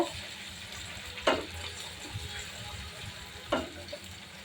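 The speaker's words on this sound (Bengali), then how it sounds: "তেলের সাথে ভালো করে কষিয়ে নিব।" Onion, ginger and garlic paste sautés in oil for chicken roast, a soft steady sizzle broken by two sharper scraping stirs of a spoon in the pan.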